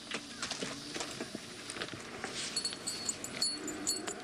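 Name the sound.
horse hooves clip-clopping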